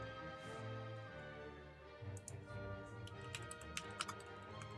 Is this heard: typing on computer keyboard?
yes